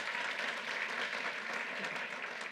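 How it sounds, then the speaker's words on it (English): Steady applause from a crowd at an outdoor government announcement in New York City's Chinatown, dense, even clapping filling the whole stretch with no talk. "Let's give a round of applause to Margaret Chin as well."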